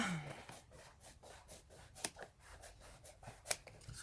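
Scissors cut paper for a Stamperia shaker card in a quick run of snips close to the microphone. The snips are soft and rhythmic, with a couple of sharper clicks.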